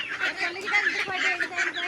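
Soft, rapid peeping and quacking of ducklings and ducks close by, a continuous chatter of small calls.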